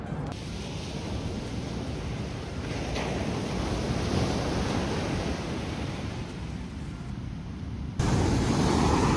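Heavy surf roars continuously, a broad wash of crashing ocean waves close by on the Redwood coast, with wind buffeting the microphone throughout.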